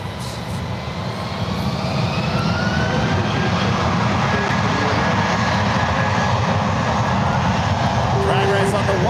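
A United airliner takes off from runway 1 left at San Francisco airport, a loud, steady broadband jet roar with a rising engine whine, heard from a distance, with radio voices audible over it.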